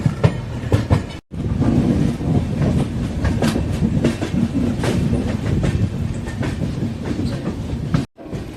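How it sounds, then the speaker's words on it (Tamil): A train, the Mysuru Express, rumbles steadily past close by, wheels clattering over the rails in a continuous, loud roar. "பக்கத்தில் ஒரு ட்ரெயின் போயிட்டுருக்கு"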